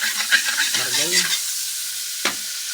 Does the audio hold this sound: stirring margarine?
yes